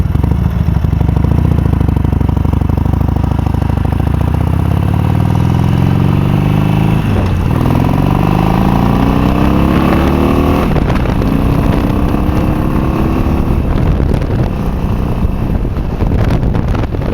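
A 2013 Harley-Davidson Sportster 72 XL 1200V fitted with a custom air cleaner accelerates, its V-twin rising in pitch through several gear changes, loud and close with heavy wind rush.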